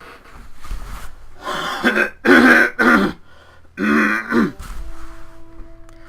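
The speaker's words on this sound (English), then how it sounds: "I had to clear my throat." A person clears their throat several times in short, harsh bursts, close by, with quiet pauses in between and a faint hum at the end.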